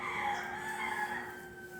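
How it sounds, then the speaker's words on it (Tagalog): Chickens and a rooster crow in the morning, the rooster's drawn-out call ringing faint and distant over a thin background of other fowl. "Ang huni ng mga manok tuwing umaga."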